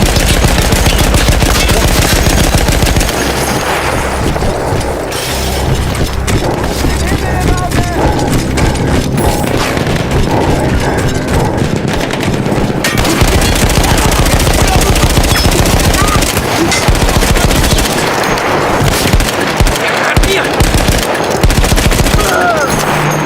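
In Battlefield 1, a mounted machine gun rattles in loud, sustained bursts of rapid fire, close up, with brief pauses and battle noise and voices in between.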